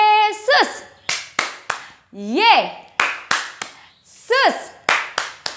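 At a Sunday school service, children clap their hands in a patterned sequence of crisp, closely spaced claps. A voice chants in sung bursts between the rounds of clapping.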